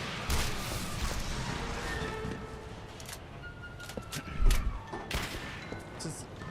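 Rapid-fire rocket launcher in the video game Turning Point: Fall of Liberty, a series of sharp blasts and booming impacts scattered across several seconds, with one heavier thud near the end amid game noise.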